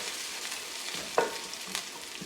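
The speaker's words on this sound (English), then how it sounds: "Just gonna give that a quick little stir just to move everything around." Curry chicken ingredients in a pot get a quick stir, giving a steady soft sizzle with one sharp scrape of the spoon near the middle and a lighter knock shortly after, all close and with no talk.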